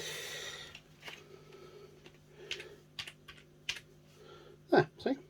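Scattered keystrokes on a computer keyboard connected through a USB 3.0 switch hub, a handful of quiet clicks spread out with pauses between them and some close louder taps near the end.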